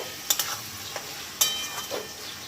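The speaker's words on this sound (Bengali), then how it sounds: "এই আলুটা এবার এই তেলের মধ্যে দিয়ে দেবো" Potato pieces, rubbed with salt and turmeric, dropped into hot oil for a Bengali fish dish, giving a soft steady sizzle with a few sharp spatters and crackles, fairly quiet and heard alone.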